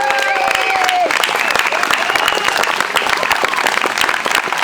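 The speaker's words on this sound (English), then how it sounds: "our host, Jim and Bernadette Lyons, let's give them a round of applause for opening their barn." An audience at a political veterans coalition gathering in a barn breaks into loud, steady applause for the hosts, dense clapping continuing throughout after a voice trails off at the start.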